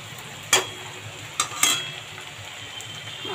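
Prawns frying in a pan in a Bengali home kitchen, with a soft steady sizzle and three sharp metallic scrapes of a spatula stirring, no talking.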